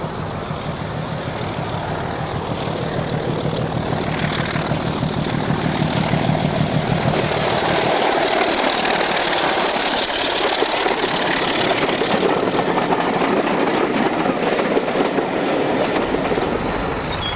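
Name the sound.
diesel locomotive D5054 passing Ewood Bridge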